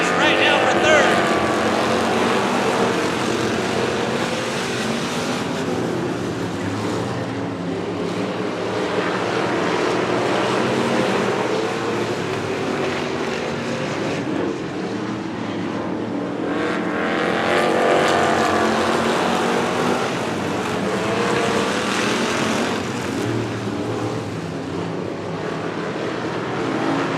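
Street stock race cars roar past on the Coos Bay Speedway oval, engine noise swelling and fading in waves as the cars circle, with an announcer talking over the din throughout.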